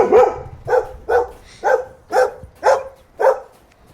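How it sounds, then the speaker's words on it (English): Two dogs bark in a steady series of seven loud, evenly spaced barks at close range in a backyard, with no other sounds between them. "Here's some footage of those dogs."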